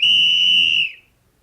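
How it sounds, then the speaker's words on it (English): A referee's whistle on hockey ice gives one loud, shrill, sustained blast lasting under a second before cutting off, with no voices over it. "On the ice, when the referee blew his whistle"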